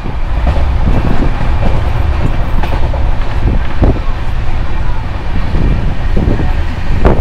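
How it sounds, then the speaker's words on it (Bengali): Upasana Express train pulling out of Lucknow, a loud, steady rumble of rolling wagons with scattered sharp knocks and rattles of wheels over rail joints continuing throughout. "তো লখনৌ থেকে আবার ট্রেনটি ছাড়ছে"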